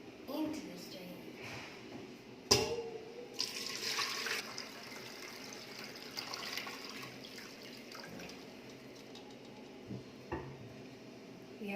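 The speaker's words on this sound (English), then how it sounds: "Now, I will strain the black tea into the strainer." Freshly boiled black tea poured through a strainer, a splashing pour with clinks of pots and utensils, followed by quieter dripping.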